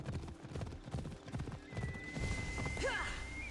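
Hooves clip-clop steadily from a horse in the Assassin's Creed Odyssey video game, joined near the end by a rising, clear neigh and whinny, all over a busy game background.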